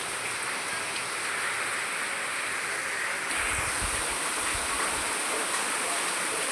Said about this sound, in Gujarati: બહુ વરસાદ પડી ગયો છે અમારા ગામમાં.